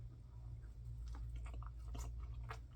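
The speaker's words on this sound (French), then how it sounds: "Puis je prends une bouchée." A bite into a soft wrap filled with blueberries, followed by a few quiet, moist chewing crunches close to the microphone over a low steady hum.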